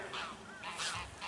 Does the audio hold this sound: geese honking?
yes